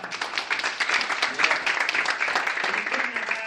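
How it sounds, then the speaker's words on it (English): Sustained applause from a crowd at a township committee and mayoral campaign event in Manalapan, New Jersey, dense steady clapping throughout with a few voices mixed in, loud and close. "Please, another round of applause, not just for our three candidates,"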